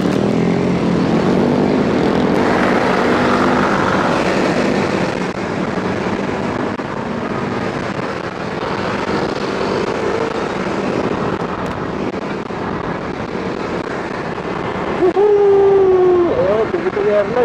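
A propeller airplane drones overhead near the Philippine Airlines area, a loud sustained roar heard from the street alongside talk and a dog's howl-like whine near the end.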